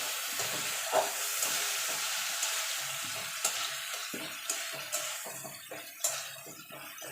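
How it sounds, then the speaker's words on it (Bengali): A ground paste of ginger and green chili fries with tomato in a pan, giving a continuous hissing sizzle with occasional clinks and stirring scrapes, heard up close and without any voices. "এবার আদাটা কাঁচা লঙ্কাটা টমেটোর সঙ্গে ভালো করে কষিয়ে নেবো"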